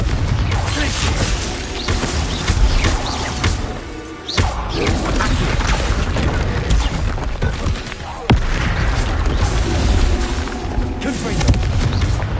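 Repeated Confringo blasting-spell explosions in Hogwarts Legacy, with dense booming blasts and crashes in layered bursts, loud and continuous, broken by brief gaps near four and eight seconds.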